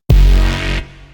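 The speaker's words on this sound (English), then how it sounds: "It's a really gritty Reese bass and just a preset." Gritty Reese bass synth preset in FL Studio, a single loud, thick, distorted bass note that sustains for under a second before cutting down to a quieter tail.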